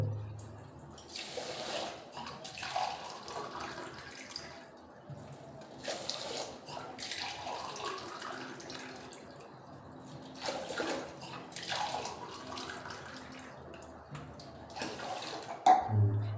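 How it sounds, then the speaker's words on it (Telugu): Four cups of water for cooking rice run and splash into a pot in several bursts, gurgling and trickling with quiet pauses between pours. "నాలుగు కప్పుల వాటర్ పోసుకోవాలి"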